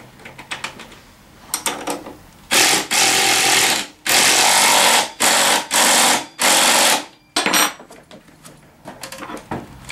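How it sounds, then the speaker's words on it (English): Ratchet driving down a 14mm nut on the front wheel of a Tao Tao CY50D scooter during assembly, loud rapid clicking in several bursts of a second or so each, close up. "And your 14mm, just ratchet it down good."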